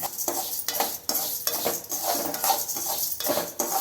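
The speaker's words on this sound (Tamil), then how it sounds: "எண்ணெய் காய்ஞ்சதும் இந்த பருப்பு போட்டு வறுக்கணும்." Lentils roast in hot oil for idli podi while a spoon stirs and scrapes the pan, making rhythmic metallic clinks and scrapes over a soft sizzle. The sound is close and fairly loud, with no talking.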